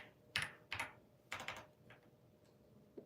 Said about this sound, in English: I'm gonna type that and search it up.